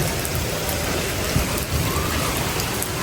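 Steady rain falls outdoors in Lahore, a dense, even hiss of drops on surfaces running throughout with a faint low rumble underneath, no voices.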